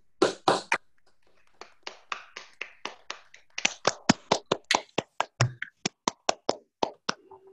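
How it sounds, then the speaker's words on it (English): A few participants clapping at the end of an online talk, sparse and uneven claps that stop briefly and then return as a quicker, steadier run of single hand claps, close to the microphone. "let us have a last round of applause or virtual applause"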